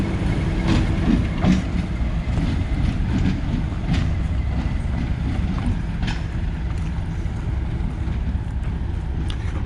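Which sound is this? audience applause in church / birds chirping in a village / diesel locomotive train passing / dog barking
diesel locomotive train passing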